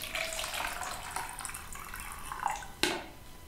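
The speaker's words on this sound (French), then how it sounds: "Je mets environ un tiers d'eau bouillante." Boiling water pours into a container already holding salt, a steady liquid splash running throughout and ending with a brief knock near the close.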